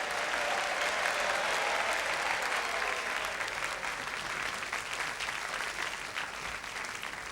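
A television studio audience applauding as a couple enters, dense sustained clapping from a crowd, loud and even throughout without letting up.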